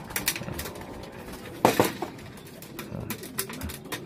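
Pigeons cooing softly in a loft, with low murmuring coos and a brief louder flutter of activity near the middle amid general bird noise.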